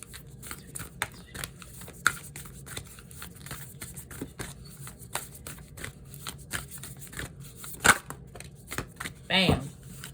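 Ancestor Spirit Oracle cards are shuffled by hand in a steady run of soft riffling clicks and slaps, with a few sharper snaps near the end, against a quiet room.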